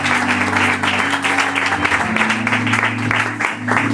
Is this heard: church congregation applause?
yes